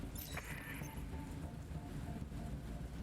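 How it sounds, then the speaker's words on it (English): Acid rain storm in the turn-based strategy game Into the Breach, a steady hiss of heavy rainfall with a rumble of thunder beneath and a few brief bright chimes near the start. "this acid rain is highly corrosive"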